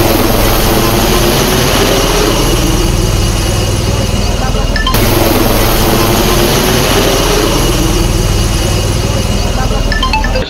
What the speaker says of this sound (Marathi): या पुरात अडकलेल्या 50 जणांना हेलिकॉप्टरनं सुरक्षित बाहेर काढलं गेलं.